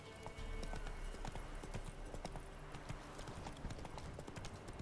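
Clip-clop hoofbeats of Roach, a horse in The Witcher 3, trotting steadily with a rapid, even rhythm over a dense game soundscape, close and fairly loud with no talk.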